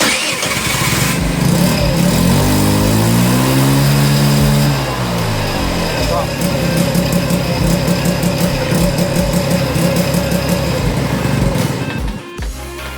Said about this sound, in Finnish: Ilman tätä niin se nostaa ne kierrokset tuonne niinku pitää